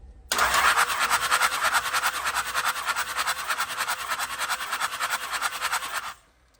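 A Cummins diesel engine cranks on the starter during a compression test. The rhythmic whirring chug is loud and even, lasts about six seconds, and then stops.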